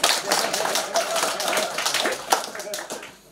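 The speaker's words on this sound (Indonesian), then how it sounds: "Tepuk tangan, nakal uceman." Audience clapping at a campaign gathering in Manggarai, a dense burst of hands slapping together that thins and fades toward the end, with voices faintly mixed in.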